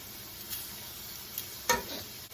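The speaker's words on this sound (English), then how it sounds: "right here, we're going to add our beef back to the skillet" Beef tossed back into a hot skillet, sizzling steadily and close, with a sharp scrape of stirring partway through.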